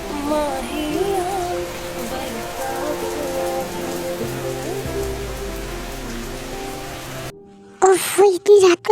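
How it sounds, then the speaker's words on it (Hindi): Heavy rain pours at night as a dense, steady hiss that runs under soft music before cutting off, after which a voice speaks briefly. "इतनी बारिश भी हो रही है"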